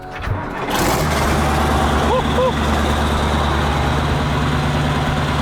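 A combine harvester engine runs with a steady, loud low drone after starting up, close by, with a couple of brief squeaky sounds partway through.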